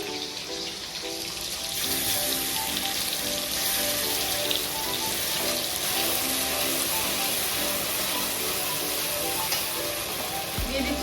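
Spice paste hitting hot oil for a Bengali hilsa curry with teasel gourd, a loud steady hiss and crackle of frying that holds throughout, close and continuous with no voices.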